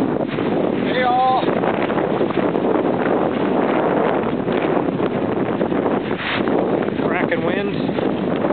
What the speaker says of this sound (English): Cracking winds, big swells.